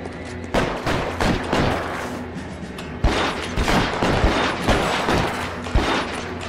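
Gunfire in L.A. Noire: repeated sharp shots in rapid volleys, loud and near, with mechanical clicks between bursts and no talk.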